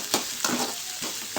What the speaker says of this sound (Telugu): ఇప్పుడు మనము వీటిని వేయించేసుకోవాలి.